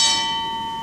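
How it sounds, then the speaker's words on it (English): Toy counter bell on a Wurlitzer theatre organ, a single bright ringing tone struck once and left to decay evenly through the short moment, heard alone. "I can actually play some of the bells and whistles for you, included in the toy box."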